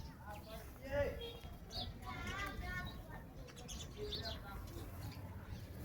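Sparrows chirp in quick, high bursts nearby while a person talks over them.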